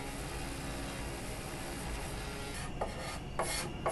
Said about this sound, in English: And then I'll use my sander to sand that drawer flush to the opening.